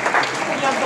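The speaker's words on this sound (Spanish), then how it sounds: "que se escuche ese buen aplauso" Audience applause at the opening ceremony of the Under-22 fronton 30-metre world championship in Mexico, a brief, loud, dense burst of crowd clapping with voices mixed in.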